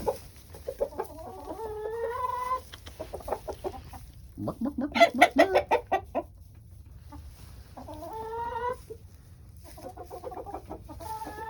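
Backyard coop flock of about six chickens clucking in bursts, with a louder, busier run of calls midway; close and clear, no talk.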